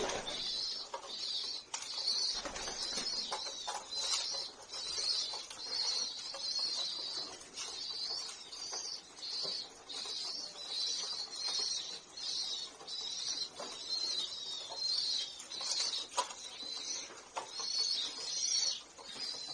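Racing homing pigeons cooing in their loft in İzmir's Buca district, with soft repeated coos and light rustling throughout, heard close and steady and without talk.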